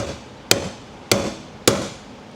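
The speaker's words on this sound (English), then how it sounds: "We're going to rapid tap on that chisel there and it's going to rotate" Three sharp, evenly spaced metallic strikes ring out up close as a hammer-style impact tool drives a dull chisel against the fuel pump lock ring on a Chevrolet Duramax dually, each hit decaying quickly.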